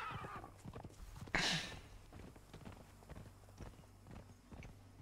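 Horse hooves clip-clop at a steady walking rhythm while riding in Conan Exiles, soft and close, with a brief rushing burst early on and faint game sounds underneath.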